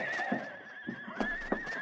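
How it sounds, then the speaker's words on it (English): Horses out back of a lean-to whinny in a brief, shrill neigh over a steady background hum, with a few soft thumps, heard at a moderate distance. "Hey, something's bothering the horses out in back of the lean-to."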